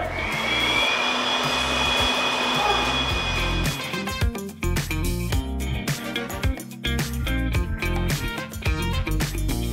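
A loud air blower roars steadily for a few seconds, then gives way to loud music with speech over it.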